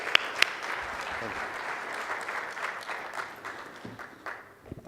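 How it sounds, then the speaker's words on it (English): Conference audience applause: a sustained round of clapping from a seated crowd, steady and moderately distant, thinning out toward the end. "Please welcome Mr. Fakhro with a round of applause"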